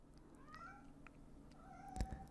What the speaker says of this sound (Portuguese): E o gatinho está dizendo: eu concordo com a avó.